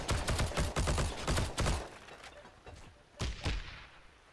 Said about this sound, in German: Oh, die Granate.